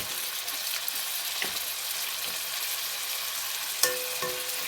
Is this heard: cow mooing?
no